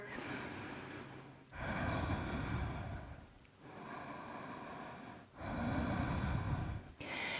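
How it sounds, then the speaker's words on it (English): Slow, deep breaths held in a yoga plank, loud close inhales and exhales alternating in long even cycles of about two seconds each, alone without talk. "Let's do 10 breaths."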